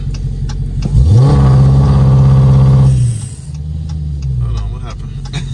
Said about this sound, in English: Press brake pedal and apply full throttle.